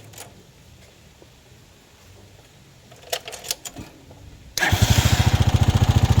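A motorcycle engine is started again during electrical repair work: quiet background and a few clicks give way to the engine catching and running with a loud, rapid, steady pulsing idle close by.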